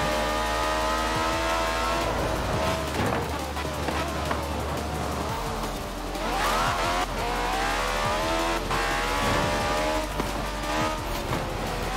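A Citroen car overtakes rivals in a Forza Horizon 4 race, its engine revving and whining through gear changes while tires squeal, with other cars roaring close by and a voice talking over it.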